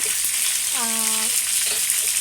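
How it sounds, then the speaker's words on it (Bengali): Chicken fries in oil with a constant loud, close hiss and crackle, while a brief voice-like tone rises in the middle. "আমি চিকেন তেলের মাঝে আমি ফ্রাই করলাম"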